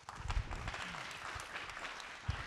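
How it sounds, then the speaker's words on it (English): An audience applauds at a space technology and mobility event as the French ambassador comes up to speak, giving sparse, moderate clapping with a few louder claps and some low rumbles mixed in. "A round of applause,"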